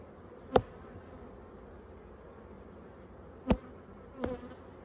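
Honey bees at a Flow Hive 2 hum softly and steadily in a low buzzing drone, broken by three sharp wooden knocks from handled hive frames, with no talking.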